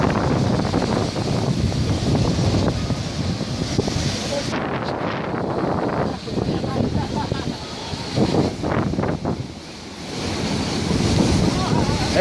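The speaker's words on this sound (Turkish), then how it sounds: "Eteklerine tarihi Dubrovnik Kalesi'nin etekleri dalgalar tarafından dövülüyor." Waves break against rocky shore below the historic Dubrovnik fortress, a continuous roar of surf with surging swells and wind buffeting the microphone; no one speaks.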